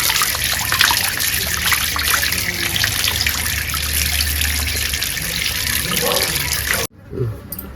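Running tap water splashing steadily over goat tripe (boti) being washed clean in a sink, a close continuous gush and trickle that stops abruptly near the end.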